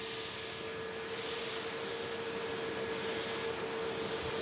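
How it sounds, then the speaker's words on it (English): An Airbus A320neo airliner arriving at Manchester Airport, a steady broad engine roar with a faint whine, distant and sustained with no talk. "This Scandinavian coming in from Stockholm. It's an Airbus A320 Neo."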